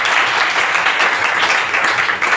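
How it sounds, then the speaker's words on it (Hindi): Steady, dense applause from an audience at a network marketing seminar, a continuous wash of many clapping hands with no pause. "ताली बजाइए जबरदस्त"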